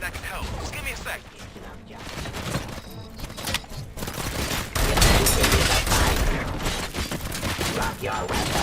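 Gunshots in the RoboCop: Rogue City video game: a dense, continuous volley of shots and mechanical clatter at steady loudness, with a voice talking over it.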